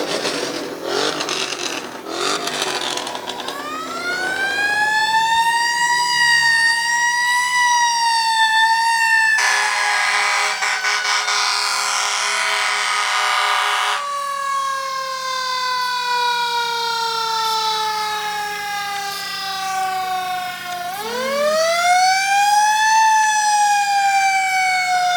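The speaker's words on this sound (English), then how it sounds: "The fire truck is from 9/11, purchased from Long Island, New York." A fire truck that served on 9/11, bought from Long Island, New York, wails its mechanical siren at a Fourth of July parade, winding up, holding a loud sustained tone, dropping away, then rising again, with a blaring horn blast midway.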